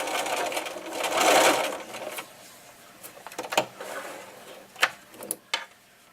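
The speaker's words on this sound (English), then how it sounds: "So there's the stitching." A sewing machine running a straight stitch with a twin needle: steady mechanical whirring at first, then slower stops and clicks of the mechanism, close by with no voice.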